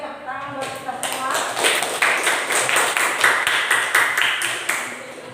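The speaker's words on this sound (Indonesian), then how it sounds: "tepuk tangan buat kita semua" A classroom of students claps in a steady run of sharp, close hand claps that go on for several seconds at moderate loudness, with a voice speaking briefly at the start.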